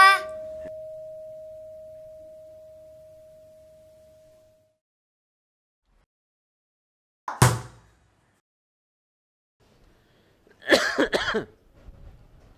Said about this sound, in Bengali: তুমি কাশি দিচ্ছ কেন?